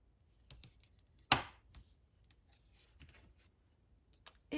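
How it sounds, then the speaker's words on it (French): Scissors snipping crochet yarn close to a crocheted unicorn plush: one crisp, near cut stands out among faint small clicks and handling rustles in an otherwise quiet room. "Je coupe mon fil à ras."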